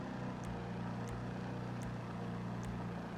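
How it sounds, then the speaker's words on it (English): A Declasse Vigero ZX muscle car idles and revs in GTA 5, a steady low engine drone with a few faint higher blips rising over it, no talking. "Let's just rev the engine a little bit."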